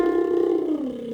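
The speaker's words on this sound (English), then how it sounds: "let's just do a lip buzz slide down" A vocal warm-up lip buzz sliding downward in pitch, a single short, fairly soft buzzing glide lasting about a second, heard on its own.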